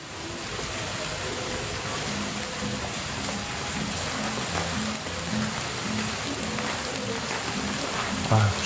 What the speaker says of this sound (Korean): 비가 너무 많이 와서